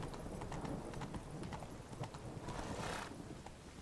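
Roach, a horse in the video game The Witcher 3, gallops in steady clip-clop hoofbeats with a neigh near the end, at moderate volume.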